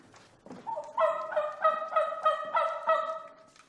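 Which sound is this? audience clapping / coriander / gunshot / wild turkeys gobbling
wild turkeys gobbling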